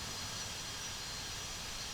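Boeing 737-400 jet engines roar steadily as the airliner gains speed in the Prepar3D flight simulator, a constant broadband rush at moderate volume with no voices.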